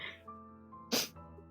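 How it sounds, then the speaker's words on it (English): A single loud sneeze bursts out from a person close by, followed by a short sniff, with quiet room tone before and after. "I hate sneezing."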